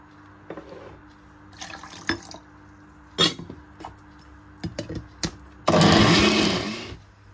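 Scattered clinks and bumps of a blender jar being handled while making a sweet corn dessert, then a loud burst of water pouring into the jar for about a second and a half.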